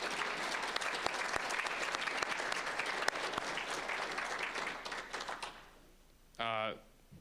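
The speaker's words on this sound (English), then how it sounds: "Can we just get one more round of applause for the entire executive board?" Applause for an executive board at a Phi Theta Kappa induction ceremony, loud sustained clapping from a crowd that fades out near the end, followed by a brief voice.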